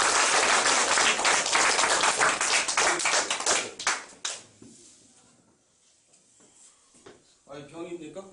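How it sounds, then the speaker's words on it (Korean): Lecture audience clapping: loud, dense applause for about four seconds that fades out, followed by a quieter pause and then a voice speaking. "자, 열심히 하라는 의미에서 박수 한 번만 더 주시죠."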